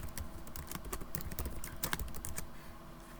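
Keys clatter steadily on a computer keyboard as a company name is typed in, a quick irregular run of close, crisp taps with no voices.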